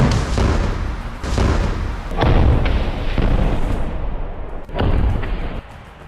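A rocket launcher fired from cover at distant IDF military vehicles in Rafah, followed by a big explosion; several heavy, booming blasts land in succession with rumbling tails between them, loud and close-sounding.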